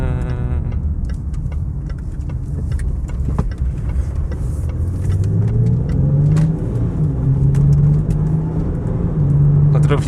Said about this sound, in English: You can just hear the turbo spooling a little bit.